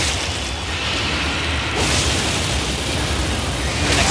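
Explosion from an attack in Elden Ring's DLC: a loud, sustained, roaring blast of noise with a sharper burst near the end.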